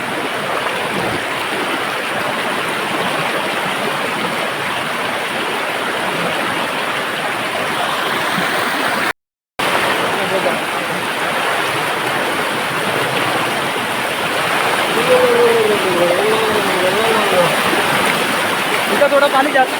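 A strong stream in a Konkan jungle rushes steadily with full, continuous watery hiss and splashing close by, lasting throughout with a brief gap, while people talk over it.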